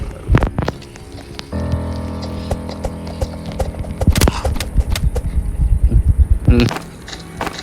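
Rain falls in a Roblox forest-survival game, a dense patter of drops with sharper tapping and clopping hits on top, fairly loud and continuous.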